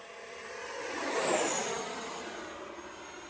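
A Horizon Hobby F-18 Blue Angels jet, an 80mm electric ducted fan RC model on a 6S 3200mAh LiPo, passing overhead: a whooshing fan whine that swells, peaks with a falling pitch, then fades, alone and without voices.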